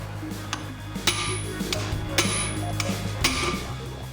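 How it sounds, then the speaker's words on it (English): Sharp metallic hammer strikes ring out at uneven intervals, about six to eight distinct knocks, as a wedged carrier bearing is driven off a BMW E36 driveshaft, close by over a low steady hum. "Now we're gonna wedge both sides of the bearing and hammer it out."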